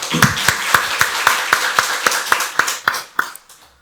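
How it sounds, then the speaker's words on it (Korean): A church congregation at a Sunday worship service claps together in a quick, steady rhythm of sharp, evenly spaced hand claps, close and fairly loud, fading out at the end with no talking. "박수로 하나님께 영광 돌리겠습니다"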